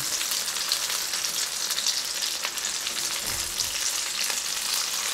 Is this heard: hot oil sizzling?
yes